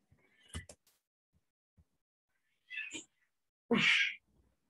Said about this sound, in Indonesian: Maaf ya, kucing di luar.